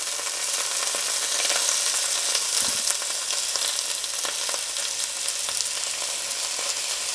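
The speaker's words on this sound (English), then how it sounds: "We just want to get this sauteed" A medley of tomatoes sautéing in olive oil in a hot pan gives a loud, steady sizzle and crackle with occasional stirring scrapes, with no talk throughout.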